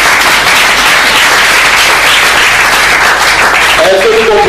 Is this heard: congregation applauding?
yes